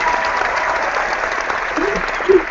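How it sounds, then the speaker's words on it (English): A crowd of friends at a fitness challenge gathering claps and cheers, steady close applause throughout with a brief shout near the end. "The crowd is really excited. It's going nuts right now."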